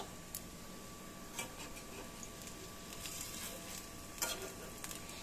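Crushed ginger, garlic and a small onion shallow frying in oil, a faint, steady sizzle broken by a few light ticks and spoon taps.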